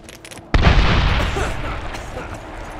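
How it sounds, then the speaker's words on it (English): A frag grenade goes off in the 2010 Medal of Honor game during a dark night firefight: one loud, close boom erupts after a quiet stretch, then a long rumbling decay with debris trailing off. "Frag out!"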